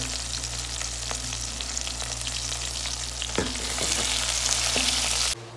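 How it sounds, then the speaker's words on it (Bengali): Sliced onion with a pinch of salt fries in hot oil in a pan, a steady close sizzle with a few scraping stirs, heard alone until it cuts off abruptly at the end. "আমরা এখন পেঁয়াজটা ভেজে দেবো।"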